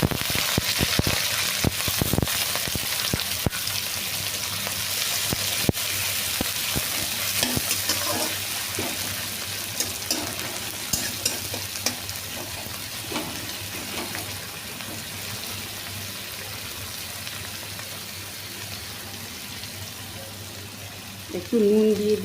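Onions frying in oil in a pan for a mushroom curry, with a loud continuous sizzle and frequent clicking stirs up close throughout, plus a brief burst of other sound near the end.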